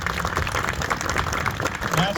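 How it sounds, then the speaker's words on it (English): Outdoor crowd applause at a groundbreaking ceremony for a racetrack suite tower, a steady wash of clapping hands lasting a couple of seconds, moderately loud and unbroken. "Let's give Matt a round of applause."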